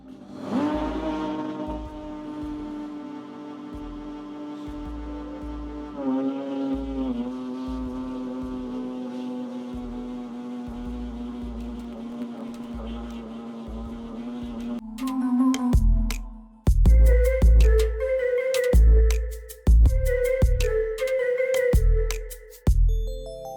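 Bicycle disc brakes being bedded in on a machine during a Fuji mountain bike service: a steady droning hum with rhythmic low pulses, then loud harsh squealing tones in repeated bursts, close and without talk.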